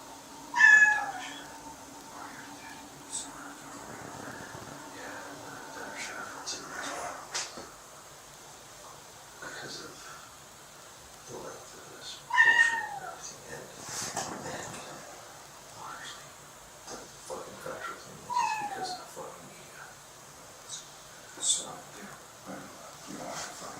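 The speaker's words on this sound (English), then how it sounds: "with a cat heard in the background" A cat meows several times, scattered across a long, otherwise quiet stretch, with soft murmured voices now and then.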